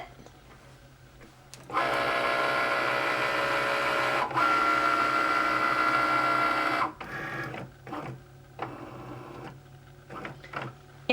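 Cricut cutting machine starting a cut on sticker paper: a loud, steady motorized whir for several seconds, then shorter mechanical buzzes and ticks in stop-start bursts as the carriage moves.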